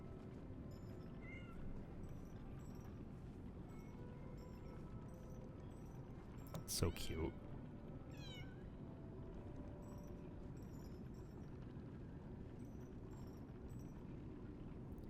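Pet cat meowing while being stroked in the video game Lies of P, a few short meows over a steady low game ambience, with one brief louder burst near the middle and a voice speaking briefly.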